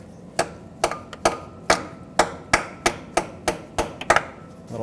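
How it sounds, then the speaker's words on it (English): Steady hammer blows drive an extractor socket onto a seized exhaust manifold stud on a 2004-2009 Ford F-150 5.4L 3-valve, about a dozen sharp metallic strikes at an even, close pace with no talking. "Hammer this on here nice and tight."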